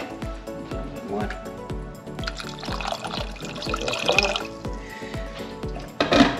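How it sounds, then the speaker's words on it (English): Water added from above into a pot of potatoes for boiling, a bright splashing pour rising in the middle of the clip under steady rhythmic background music. "We'll top that up with a little bit of water."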